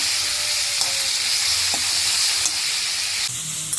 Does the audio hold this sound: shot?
no